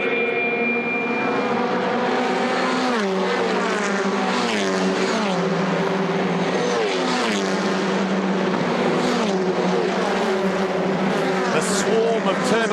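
TCR touring race cars with turbocharged four-cylinder engines race at The Bend. A continuous loud engine roar carries repeated upshifts and revving pitch sweeps, and a commentator talks over it throughout.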